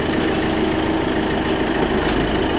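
A Claas tractor engine runs steadily during a clutch test, a loud, continuous low rumble with constant vibration and no speech over it.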